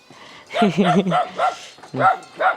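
Dogs bark repeatedly on a rural Thai homestead, a string of loud close barks and yips with some whimpering mixed in, overlapping with people talking.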